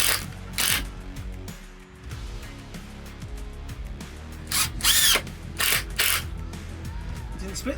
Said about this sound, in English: Now I drilled a pilot hole.